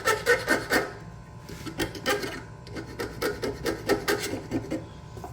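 A file rasping back and forth over the cut end of a screw to remove burrs, a steady run of short scraping strokes, close and fairly loud with no talk.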